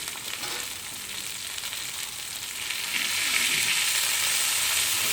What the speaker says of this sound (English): Give them a nice sear on here.